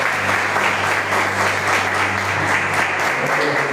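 A church congregation claps together in sustained applause, a dense, steady roar of many hands in a reverberant hall over a low hum, loud and unbroken for the whole stretch.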